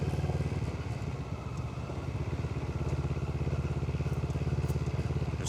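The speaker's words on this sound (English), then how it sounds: "Sometimes I'm kinda happy that I have an adventure bike." Adventure motorcycle engine droning steadily at cruising speed on empty streets at 2 AM, a continuous low rumble with a rhythmic throb, close and loud throughout with no talking.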